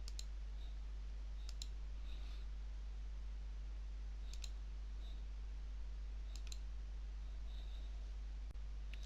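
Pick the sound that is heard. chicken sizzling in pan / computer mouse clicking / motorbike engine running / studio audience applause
computer mouse clicking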